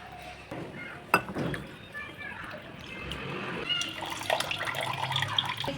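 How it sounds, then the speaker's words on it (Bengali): Cold water is poured over fresh chhena held in a cotton cloth, a soft trickling splash that grows steadier toward the end, heard beneath a person talking nearby. "দেখো ঠান্ডা জল দেওয়া হচ্ছে।"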